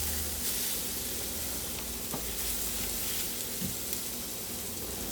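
Eggplant slices sizzle in a dry pan with no oil, a steady close crackling hiss that holds evenly throughout, with a few faint clinks and stirring sounds.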